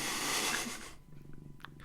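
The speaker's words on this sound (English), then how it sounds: "I can hear Jeff purring" A cat purrs close by, a soft steady low rumble that becomes evident after a burst of broadband hiss at the start.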